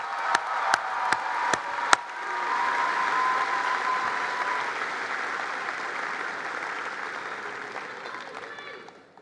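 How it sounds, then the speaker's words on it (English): A few sharp, isolated claps open, then a high school graduation audience breaks into full, steady applause for teachers seated with the graduating class, holding moderately loud before tapering off. "Could we please recognize them with an applause?"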